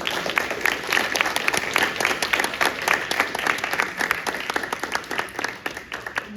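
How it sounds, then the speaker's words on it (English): Audience at a remembrance-day breakout panel applauding the panelists, a lively, continuous round of many hands clapping with distinct individual claps audible, fading slightly near the close. "Can we just give our panelists a round of applause?"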